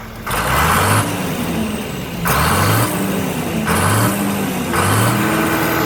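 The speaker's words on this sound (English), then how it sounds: "Can you blip the throttle a couple times?" The heavy diesel engine of a John Deere 690B excavator revs up several times in a row, each rise roaring loudly before dropping back to idle.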